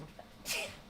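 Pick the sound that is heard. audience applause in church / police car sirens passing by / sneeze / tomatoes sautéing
sneeze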